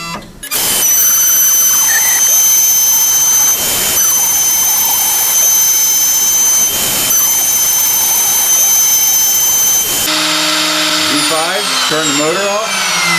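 A CNC router spindle screams at high pitch through a cutting cycle, loud and close with brief dips, then shifting tones as the machine moves between positions near the end.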